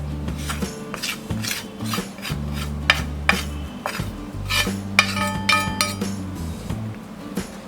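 Paneer tikka marinade of spices and roasted gram flour is mixed in a bowl, with busy metallic clinks and scrapes of a spoon against the bowl in quick irregular bursts, close and fairly loud.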